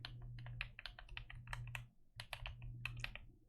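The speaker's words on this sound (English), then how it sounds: "But I like this keyboard. It's like a little creamier." Steady, quick typing on a computer keyboard with a soft, creamy feel, close up in a quiet ASMR setting, with a dense run of muffled key clicks, a brief pause near the middle, then more keystrokes over a low hum.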